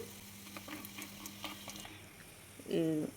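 Garlic, curry leaves and dried chillies fry in hot oil for a tomato and red chilli pickle, a faint steady sizzle with scattered crackles and stirring clinks, then a louder hum near the end.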